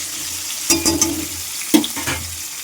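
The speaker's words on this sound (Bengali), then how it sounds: "পটল ভাজা তেলের মধ্যে কিন্তু আলুগুলো দিয়ে দিচ্ছি" Potatoes frying in oil give a low steady sizzle, with two short bursts of stirring clatter from a utensil in the pan, close and brief.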